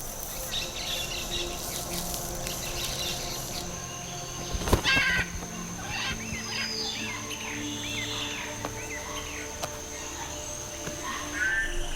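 Horned toad croaking in the Colombian jungle, faint calls set against a dense bed of insect buzz and bird chirps, with a brief louder rustle midway through the quiet, steady forest ambience.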